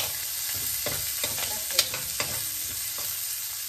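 White onion sautéing in a pan for Filipino-style chicken curry, a steady soft sizzle with scattered light scrapes and clicks of stirring, close and continuous with no voices.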